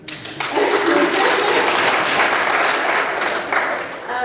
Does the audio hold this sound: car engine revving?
no